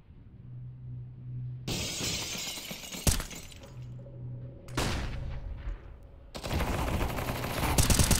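Window glass shatters amid gunfire in CS:GO, with sharp bright breaking bursts and crackling shots in several separate clusters, loud and close, separated by quieter stretches of low hum.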